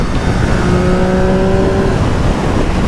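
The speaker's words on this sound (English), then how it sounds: "You could even hear that induction noise, even at 80 miles an hour, which is nuts." A 2024 Triumph Street Triple R with 120 horsepower cruises at about 80 mph, its induction note a steady, loud harmonic drone that climbs slightly in pitch and holds over continuous wind and road roar.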